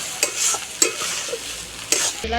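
Chicken curry being stirred in a pan, with a soft sizzle under several sharp scraping strokes of a spoon against the pan, spaced irregularly across the moment.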